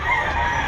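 A rooster crows at a busy pet market, a loud, sustained call up close that fills the short moment on its own.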